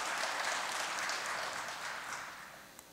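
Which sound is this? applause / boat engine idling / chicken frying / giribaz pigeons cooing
applause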